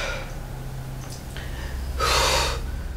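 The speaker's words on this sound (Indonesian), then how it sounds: "Bentar, gue tarik nafas dulu." A person draws a deep breath, with a few faint breathy snorts followed by one loud, airy inhale close to the microphone.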